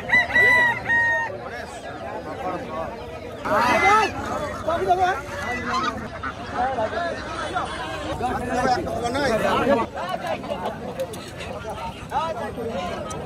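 Chickens, ducks and a rooster at a market, clucking and squawking close by with a crow near the start, mixed in with busy chatter and people talking.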